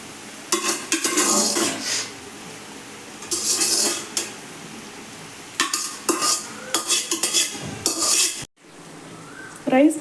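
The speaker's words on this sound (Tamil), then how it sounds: "எக் நல்லா குக் ஆனதும் ரைஸ் போட்டு மிக்ஸ் பண்ணிக்கலாம்." Rice stirred into cooked egg in a pan, the utensil scraping and clattering against the metal in bursts of busy scraping with brief pauses, close and fairly loud, a faint sizzle beneath.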